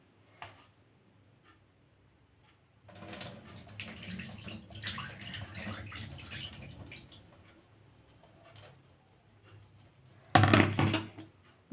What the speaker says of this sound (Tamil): இப்படி எல்லாம் அந்த பாத்திரத்தில் போட்டுட்டேன். நல்லா கழுவிக்கலாம்.